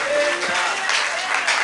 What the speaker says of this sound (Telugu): చప్పట్లు కొట్టి దేవుని స్తుతిస్తాం